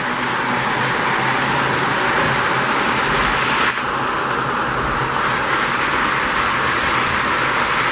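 A restored Lionel postwar 746 J Class model steam engine with Magnetraction running on its track, a continuous loud whirring rumble of motor and wheels that stays steady throughout.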